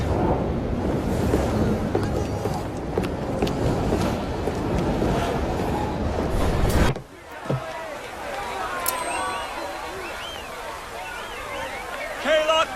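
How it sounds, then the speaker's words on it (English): A train in the video game Assassin's Creed Syndicate gives a loud, broad rumbling roar for about seven seconds, then cuts off abruptly to quieter ambient sound. "at least we have a train now"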